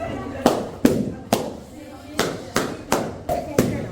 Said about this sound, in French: Explosion de ballon.